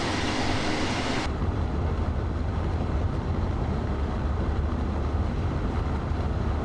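An RJ train in Train Simulator Classic runs at speed near St. Pölten and Melk, a steady loud rumble and rolling roar with a brighter hiss at the start, continuous with no talk.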